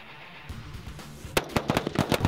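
Rifle gunfire on a Marine Corps marksmanship range: a burst of sharp, loud cracks that begins partway through and repeats in an irregular rapid rhythm, several shots overlapping against a low background rumble.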